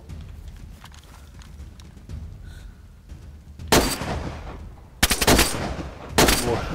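Gunfire in the PlayStation 4 survival game DayZ: quiet ambient game noise at first, then three loud bursts of shots, each a cluster of cracks lasting about a second, close and unaccompanied by speech.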